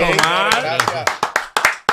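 Several people clap sharply and unevenly during a live talk show, the claps rising out of ongoing chatter and voices, loud and close.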